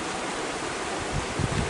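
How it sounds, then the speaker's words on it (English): Water bubbles non-stop from a vent in a heavily volcanic zone, a steady wash of gurgling hiss with a few slightly louder surges near the end, close by and unaccompanied by voices. "I mean, that's non-stop bubbling."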